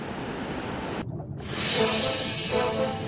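Rushing water of a waterfall on a salmon river where Atlantic salmon leap upstream, a steady loud broadband roar that drops out briefly for a moment before resuming, continuous and close.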